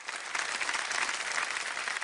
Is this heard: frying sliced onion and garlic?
no